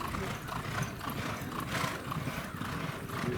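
Racehorses training on a dirt track, with a Twirling Candy colt and an Honor Code colt among them, give off a steady rumble of hoofbeats and clip-clop that continues without a break, mixed with faint distant noise.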